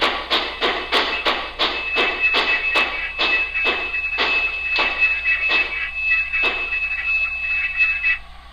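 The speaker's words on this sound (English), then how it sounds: "you're going to hear the locomotive squeal to a stop." A model steam locomotive's sound decoder, moving at a low speed step, plays braking sounds. A string of sharp metallic clanks comes first, then a sustained high brake squeal that holds to a stop and fades near the end.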